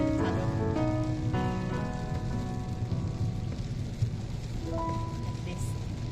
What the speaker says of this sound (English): After a long, long time, it's still raining now.